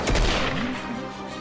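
One loud, close gunshot rings out in a Hindi movie wedding scene. The sharp blast fades into a lingering, echoing tail.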